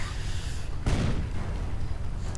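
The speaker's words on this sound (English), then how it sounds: "And artillery being called in, apparently in preparation" A single heavy artillery blast booms out in a World War II wargame, rising abruptly from a low background rumble and then fading.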